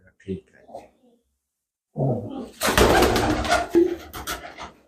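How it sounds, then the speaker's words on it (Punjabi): Old pigeons kept by a fancier coo and flutter close by, a burst of loud rough activity after a quiet start, with voices talking over the birds. "ਹਾਂਜੀ ਇਹ ਪੁਰਾਣੇ ਕਬੂਤਰ ਸਾਰੇ"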